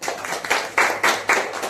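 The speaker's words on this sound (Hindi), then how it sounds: "आपस में ताली बजा सकते।" Church congregation at a Wednesday service clapping together, a brief burst of several sharp, moderately close claps in a loose rhythm.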